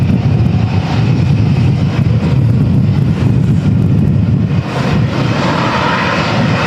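An Airbus A320-family airliner lands at Manchester Airport in extreme crosswinds during Storm Claudio, a loud sustained engine roar up close with gusting wind noise and no voices.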